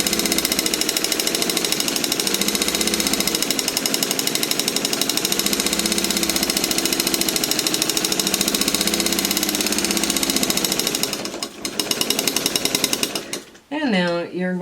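A long-arm quilting machine stitching an inner border with a noisy hopping foot, a steady fast mechanical chatter running loud and continuous for most of the stretch before it stops near the end with brief handling noise.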